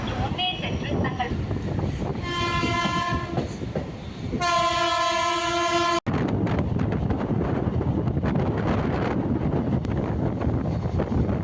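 A local EMU electric train runs steadily with a loud rumble and wind buffeting, and two sustained horn blasts sound early on before the rolling noise continues.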